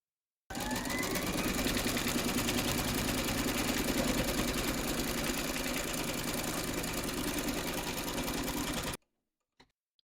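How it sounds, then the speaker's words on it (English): An embroidery machine stitches a quilting round through layered fabric held in a hoop, making a steady, continuous mechanical whir for about eight seconds at close range before it stops, with a few faint clicks afterward. "Pop your hoop into your machine and stitch round number 3"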